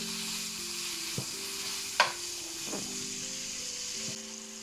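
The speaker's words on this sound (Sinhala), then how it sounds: "මේ ටික එකතු කරලා විනාඩියක් දෙකක් ෆ්‍රයි කරගන්න." Ingredients for chicken chow mein, including chopped spring onions, sizzling in a hot pan, a steady frying hiss broken by a few stirring scrapes and one sharper clatter near the middle.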